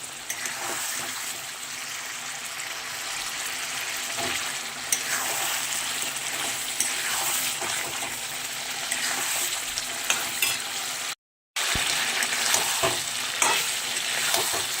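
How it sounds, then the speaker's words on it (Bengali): Spices and turmeric sautéing in a pan for butter chicken, a continuous close sizzle with repeated stirring and scraping, briefly cut to silence near the end before resuming. "আর এবার ভালো করে আমি মশলাগুলো দিয়ে কষিয়ে নেব।"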